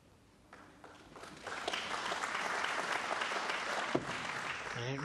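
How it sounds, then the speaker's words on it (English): A snooker audience at the Australian Goldfields Open final applauds a safety shot, clapping that swells from scattered hands into steady, dense applause held at moderate level across several seconds, with no talk over it. "Good safety there from Marco Fu, appreciated by the audience."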